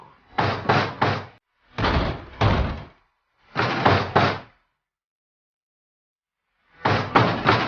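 An old door in the video game What Remains of Edith Finch, said to have creaking hinges, gives four loud, rough bursts separated by short pauses and a longer gap before the last, with no talking.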